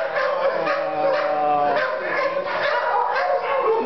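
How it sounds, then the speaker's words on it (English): A three-year-old intact male Cane Corso barking and whimpering at a Van Nuys, California shelter, a run of close yips and whines mixed with other dogs barking around it, under brief talk. "I think the barking is maybe upsetting him some"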